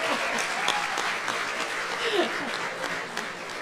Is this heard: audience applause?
yes